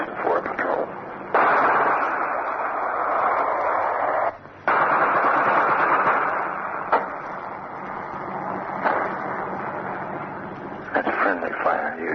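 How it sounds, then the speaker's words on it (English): Harassment-and-interdiction gunfire during the Korean War, heard across a valley near Old Baldy as a steady rumbling barrage with sharper reports, sitting beneath continuous radio-style narration. "As you can tell from the firing in the background, there's a great deal of activity in preparation for a patrol."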